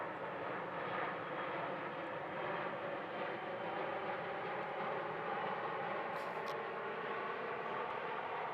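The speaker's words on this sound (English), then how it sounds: "Ryanair on its way in as well." A Ryanair jet arriving at Manchester Airport gives a steady, broad engine roar that holds at constant loudness throughout, heard from a moderate distance with no voices.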